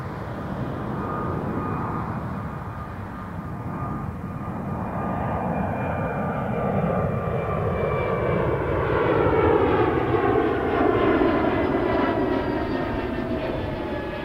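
Egypt Air heavy jet airliner on runway 23 at Toronto Pearson, a loud continuous engine roar that swells steadily, with a rising whine and a broad rushing rumble heard alone.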